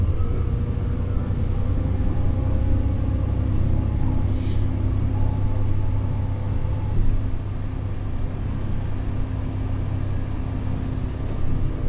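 Steady low engine rumble and road noise inside a Moscow city bus on route 909, driving along Ostashkovskaya Street, continuous and even with no talk.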